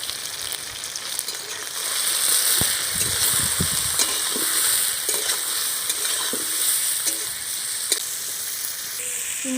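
Prawns with salt and turmeric frying lightly in a pan for malaikari, giving a loud, steady close sizzle with occasional spatula scrapes and pops.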